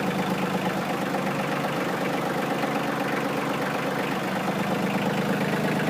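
A 2019 Kioti CK2610 HST compact tractor with a backhoe idles steadily, its diesel engine giving a continuous, even rumble close by with no voices over it.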